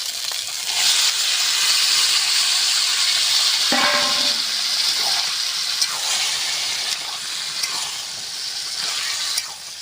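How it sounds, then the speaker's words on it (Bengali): Boiled green jackfruit and fish head hit fried spice paste in a pan, a loud continuous sizzle and hiss with a short bubbling splash partway, close and without talk. "মাছের মাথা দিয়ে সেদ্ধ করে রাখা এঁচোড়টা ঢেলে দেবো"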